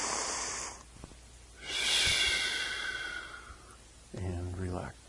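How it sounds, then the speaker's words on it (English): A long, deep breath is drawn in and released during a calming tapping exercise, with breathy inhale and exhale sounds up close and a voice humming or speaking briefly at the end. "Cross your hands across your heart and breathe in."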